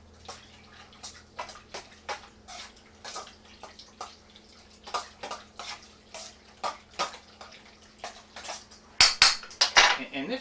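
A spoon stirs cooked quahog meat and vegetables together in a hot pot, a close, uneven run of metallic clinks and scrapes that grows louder and busier toward the end, with no talking.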